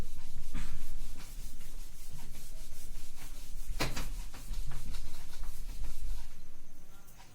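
Duster or cloth rubbing chalk or marker writing off a classroom board during a class-10 maths lesson on polynomials, a steady scrubbing swish in repeated strokes, close and fairly loud, with no talk.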